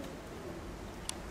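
Pigeons coo softly at close range in a loft, a faint low murmuring against steady background noise, with a brief click near the end.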